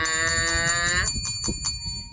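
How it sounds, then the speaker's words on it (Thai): A bright, high-pitched bell chime, the notification-bell cue of a subscribe reminder, rings out with a few quick repeated dings that fade over a low background murmur. "กดกระดิ่งกริ๊งกริ๊ง"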